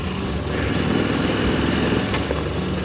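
A Moto Guzzi V85TT motorcycle ridden off-road in the Western Alps, its engine roaring loud, close and steady under constant throttle with no break.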